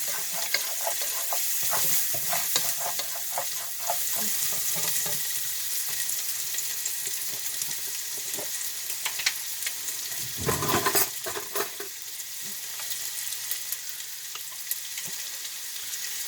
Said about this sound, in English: Give it a stir and scrape up those bits from the bottom.